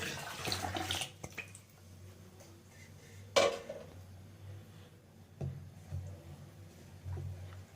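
Water pours and trickles into a pot of lentils with spinach and ivy gourd, fairly quiet, with a sharp clink of metal midway and a few soft knocks of cookware.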